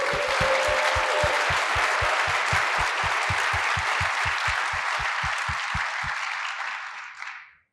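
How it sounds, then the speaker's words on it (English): Conference audience at RubyConf 2024 applauding the program committee, a loud, full round of clapping with a steady rhythmic thump underneath, sustained for several seconds before fading out. "Can I get a round of applause for the program committee?"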